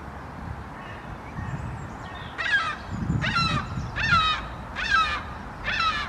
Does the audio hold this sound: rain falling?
no